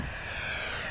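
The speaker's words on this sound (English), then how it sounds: "Let's get it in a straight line. That's full throttle." An E-flite SU-30 twin 70mm electric ducted-fan RC jet flies at full throttle, a steady high-pitched turbine-like whine that stays loud and constant through the brief moment.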